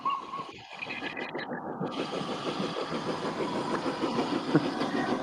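The 100-year-old Flying Scotsman steam locomotive races alongside a diesel train, with a steady rhythmic chuffing and rumbling engine noise that holds throughout at a fairly close distance.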